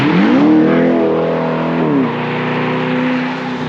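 A 2022 Chevrolet Corvette with aftermarket exhaust drives by loudly, its engine note rising under acceleration and then settling into a sustained drone as it moves off, close and dominant with no talking.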